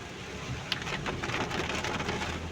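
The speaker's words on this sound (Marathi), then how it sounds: "आणि हा बघा पाऊस." Rain falls at Tamhini Ghat, a soft, steady wash of drops on the mountain pass with a few sharper patters, heard quietly on its own without speech.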